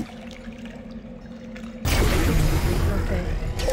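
A player in Portal 2 plunges into clean water after a quiet start, and a sudden loud splash turns into a steady churning, sloshing wash that keeps going to the end.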